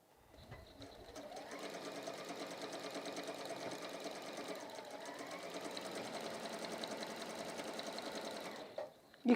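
A sewing machine stitches quilt pieces for a Pandora's Box quilt, running as a steady, continuous mechanical whir for most of the stretch before stopping near the end.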